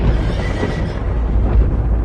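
A horse neighs loudly under a dense, roaring background, like a dramatized scene with horses and fiery chariots around a hill; the whinny is close and mixed into the steady noise.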